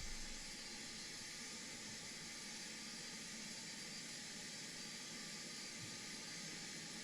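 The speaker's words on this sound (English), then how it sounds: "Starting engine 1. Engine number 1 starting." Simulated Boeing 747-200 number 1 jet engine spooling up at start, heard as a steady, even roar and hiss that holds at the same level throughout, with no voices.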